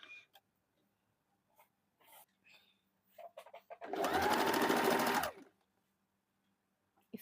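A sewing machine runs one short, close burst of about a second and a half stitching a half-inch blouse seam, framed by quiet fabric handling and small clicks before and after.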